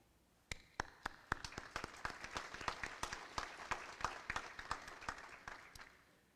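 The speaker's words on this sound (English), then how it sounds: "I want to take the time to applaud all of you." Sparse, distinct hand claps from a small number of people at a spring commencement ceremony, sharp individual claps building into a quicker irregular patter, fairly quiet overall.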